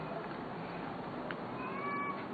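A cat cries and meows, faint and distant over a steady hiss of background noise, with a drawn-out wavering wail rising toward the end.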